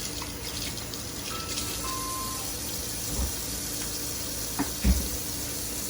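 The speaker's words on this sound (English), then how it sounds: "Then I will wash my hands off a little bit because it's a little nasty." Water runs steadily from a kitchen tap as hands are rinsed, a constant hiss of flow with a couple of brief splashes and knocks near the end, no speech.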